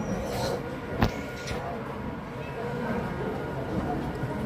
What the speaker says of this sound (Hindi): इटावा से चलकर आगरा कैंट को जाने वाली लोकल ट्रेन, यानी कि मेमो ट्रेन